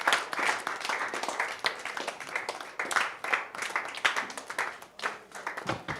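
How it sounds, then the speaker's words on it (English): Steady crowd applause at a conference, many hands clapping, dense and sustained, swelling and dipping slightly over several seconds. "let's give ourselves a big hand clap"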